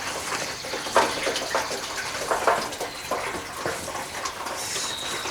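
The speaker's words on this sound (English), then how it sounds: "maybe 25, 30 gallons of water in the tank" Water gushes steadily from a hydrant hose into a tractor sprayer tank on a Ford 2N, a continuous splashing rush with small surges, close and fairly loud, no talking.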